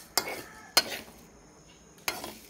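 A utensil scrapes and stirs white rice roasting dry in a pan for rice coffee: three sharp scraping strokes, close and moderately loud, with soft faint sizzling between them.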